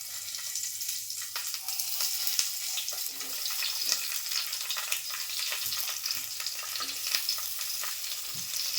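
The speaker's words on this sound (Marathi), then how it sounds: "वांगी ना आपण ही भरून ठेवलेली आहेत ना, ती थोडीशी तेलामध्ये टाकून मी परतून घेते" Stuffed eggplants sauté in hot oil in a pan, giving a steady close sizzle and crackle with occasional stirring clinks throughout, no voices.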